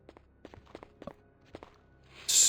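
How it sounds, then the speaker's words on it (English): Squishy footsteps in the video game Resident Evil, a series of soft, wet, irregular steps at moderate distance, ending under a sudden burst of hiss. "I still hear squishy footsteps."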